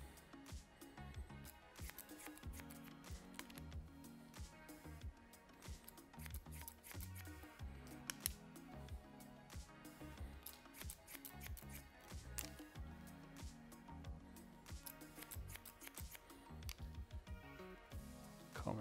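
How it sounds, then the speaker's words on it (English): Scissors snip hair blunt during a textured crop haircut over a zero fade, a steady run of close, quiet rapid snips and blade clicks that goes on for almost twenty seconds. "And I'll just cut it blunt."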